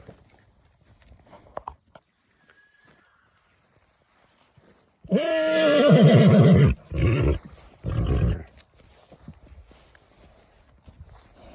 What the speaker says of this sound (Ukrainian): Ось привіз таку кобилу. Кобила чистокровна Володимирівка.